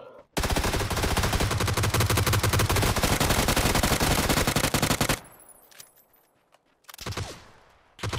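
Sustained rapid automatic gunfire in PUBG Battlegrounds, loud and dense for about five seconds, then quieter scattered sounds and a final short burst of shots.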